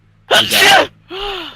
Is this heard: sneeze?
yes